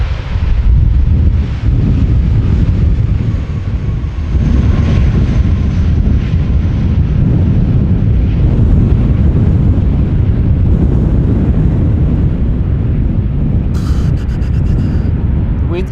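Strong gusty wind buffets the microphone outdoors at Amsterdam Schiphol Airport, a loud, steady low roar that persists throughout, with a faint aircraft rumble beneath.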